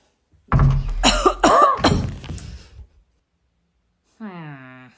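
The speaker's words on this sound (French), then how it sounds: "J'ai toussé." Someone coughs and clears their throat in a rough burst, followed after a pause by a brief high, drawn-out vocal sound.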